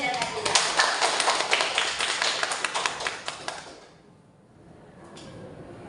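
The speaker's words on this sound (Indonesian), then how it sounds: "Beri aplaus untuk Anda tadi." A classroom audience gives applause during a practice teaching lesson. A dense burst of clapping from several people lasts about four seconds, then fades to quiet room tone.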